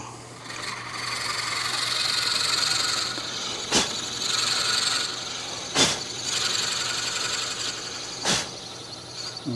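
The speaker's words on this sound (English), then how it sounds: "And let's just bore that out." Scrap wood being bored out on a spinning wood lathe, a continuous close scraping rasp with a steady motor hum beneath, broken by three or four sharp knocks as the tool bites.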